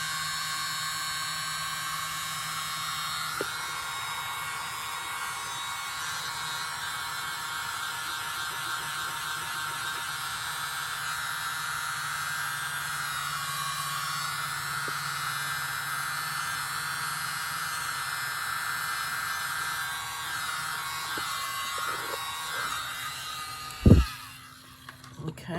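A dryer blows air steadily onto an acrylic paint pour with cell activator, a constant whirring hiss that runs unbroken for about twenty-five seconds before a sharp knock near the end.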